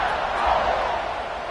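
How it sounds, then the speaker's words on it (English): Steady crowd murmur fills an American football video game stadium, a dense, continuous roar at moderate loudness with no single voice standing out. "this crowd is buzzing after that last score"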